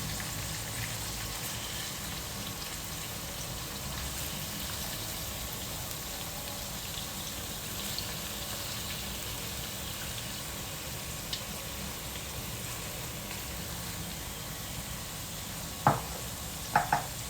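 Prawns sizzle steadily in a pan while cooking for a prawn roast, with a constant frying hiss and a few light utensil clicks near the end, heard without talk.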